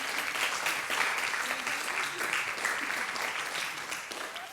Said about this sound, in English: a round of applause for our great presentations